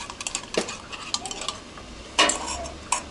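A small teaspoon stirs ground Turkish coffee in a pot, giving a few light metallic clinks and scrapes against the sides, brief and close, with quiet pauses between them.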